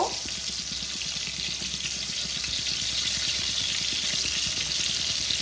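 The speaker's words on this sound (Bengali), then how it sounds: "মাছগুলোকে আমি লাল লাল করে ভেজে নেব।" Pieces of rohu fish fry in hot oil for a Bengali-style curry, giving a steady, dense sizzle with fine crackling throughout, close and continuous, with no voices.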